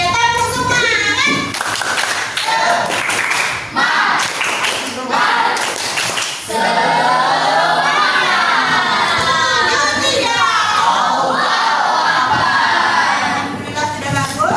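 Schoolchildren in a classroom perform a 'tepuk semangat' clapping cheer, loud rhythmic claps in quick patterns mixed with chanting and shouting voices, followed by sustained excited group vocalizing.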